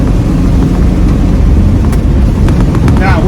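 A truck with a Holley 4412S carburetor runs at full throttle during a choke test, its engine a loud, steady roar close by with no talk.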